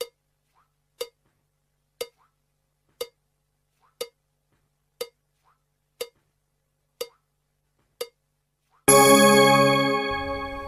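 A single bell dings nine times at steady one-second intervals, clear and isolated, followed by a louder burst of sustained ringing tones.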